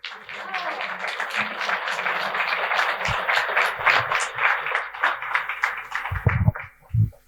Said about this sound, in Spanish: Le damos un aplauso a Álvaro.